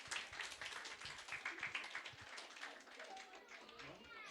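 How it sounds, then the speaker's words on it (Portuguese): Applause from a school audience honouring a children's book author at a school event, steady crowded clapping filling the whole stretch at moderate level, with voices faintly mixed in. "Aplauso para ele."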